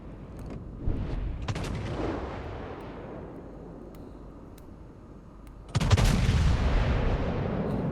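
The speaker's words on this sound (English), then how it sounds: "The dispersion coming out of those guns is beautiful. Look at those salvos." Battleship main gun salvos in the World of Warships naval video game: deep booming blasts with long rumbling decay, a couple of shots early on, then a heavier roaring salvo that sustains over a steady background.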